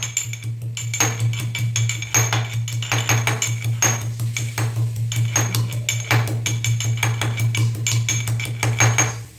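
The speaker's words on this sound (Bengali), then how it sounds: "তো চায়ে একটু আদা দেবো, এই যে আদাটা থেতো করে নিয়ে যেতে" Ginger is crushed for tea, giving a rapid series of sharp pounding and clinking knocks, close and loud, over a steady low hum, with no voices.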